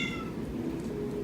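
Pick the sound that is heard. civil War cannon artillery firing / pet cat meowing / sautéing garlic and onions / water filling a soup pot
pet cat meowing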